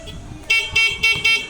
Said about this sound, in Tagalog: Tapos yung stock na busina muna sir.